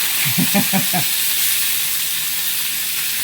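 Corned beef sautéing in a pan, a steady close frying hiss throughout, with a short burst of speech near the start.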